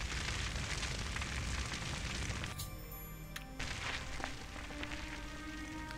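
Fire roaring in Oblivion's Shivering Isles, a steady low rushing crackle that runs throughout at moderate level, with faint tonal game effects over it.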